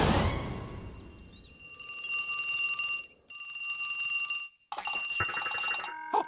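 Electronic telephone ringing tone in repeated bursts separated by short pauses, fairly loud and clear, with no talking.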